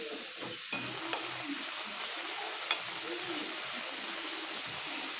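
Hog plum pickle with a little water and sugar stirred in a pan, a soft continuous sizzle and hiss with a couple of faint clinks of the spoon.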